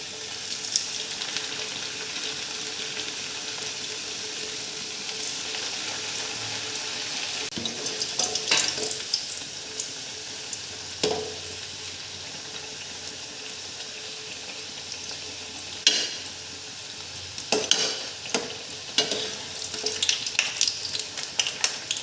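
Nimki (namkeen) dough sizzles steadily in hot refined oil, a continuous bright crackle running throughout with occasional sharper spits and stirring clinks standing out near the pan.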